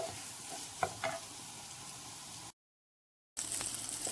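Eggs frying in oil in a pan for a spiced egg dish, a steady soft sizzle with a few sharp stirring clicks, cut by a brief silent gap before the frying resumes.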